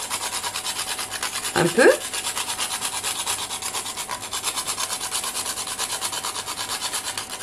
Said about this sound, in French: je vais même mettre la noix de muscade, comme ça elle va bien se mélanger. Donc ça, si vous avez comme moi, vous en râpez